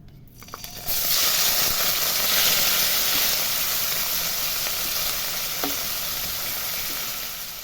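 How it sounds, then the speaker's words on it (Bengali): Prawns drop into hot oil in a wok, and a fairly faint hiss jumps to a steady, even sizzle after about a second. It keeps going with a faint tick or two and eases slightly near the end. "চিংড়ি মাছটাকে বেশি ভাজবো না"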